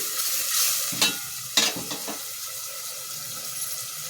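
Water poured into cooking masala for a greens saaru, a steady hiss and sizzle broken by two or three sharp splashing bursts and stirring scrapes, close and fairly quiet, no voices.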